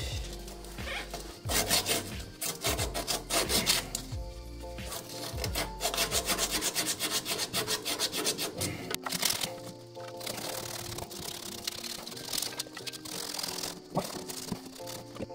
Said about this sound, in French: Maintenant, on va le poncer.